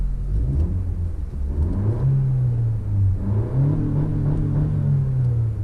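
A 2019 Honda Civic Si with the 1.5 liter turbo engine revving up twice, heard from inside the cabin, each rise climbing in pitch before settling back, a loud continuous drone with no voices.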